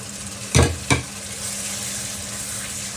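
Steady hissing sizzle of eggplant kofta frying in oil, with two sharp knocks of a utensil early on; close and continuous, no talking.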